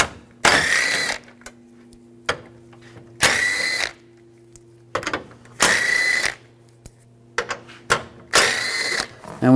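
Ratchet fitted with a 10mm socket spinning out screws on a 2007-2013 Chevrolet Silverado 1500 during power steering cooler replacement, four bursts of rapid clicking separated by quiet pauses, close and clear with no talking.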